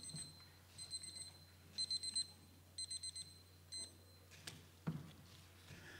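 A laboratory timer beeps in repeated bursts of rapid electronic pulses, four or five groups spaced about a second apart, fairly faint against a steady hum of room noise.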